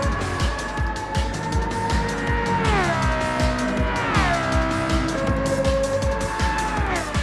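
A high-pitched race car engine screams steadily and loudly, rising in pitch through gear changes with sharp shifts around the midpoint, sustained close by without any talking.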